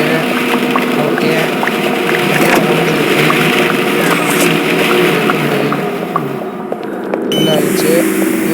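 Water gushing out in the Poppy Playtime Chapter 2 game, a loud, steady rushing flow that fades briefly near the end.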